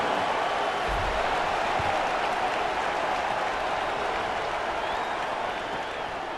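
A large stadium crowd roars and applauds in EA Sports College Football, a thick, continuous wall of cheering that stays loud and even throughout, with no commentary over it.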